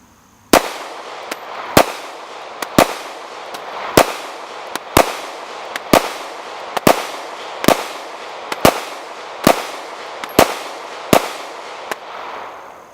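A Taurus PT111G2 pistol fires plated bullets in a steady string of about a dozen loud, sharp shots, evenly spaced just under a second apart, with no talking.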